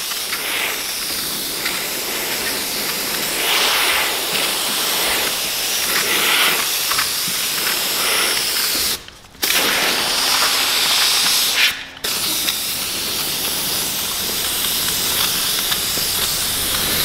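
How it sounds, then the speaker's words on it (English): A handheld steamer blowing hot steam over a car's clear bra paint protection film to heat it for removal, a loud continuous hiss that runs throughout with two brief cutoffs as the steam is paused, no talking. "I like to heat up the whole material real quick. Let it all get worked in there with the steam."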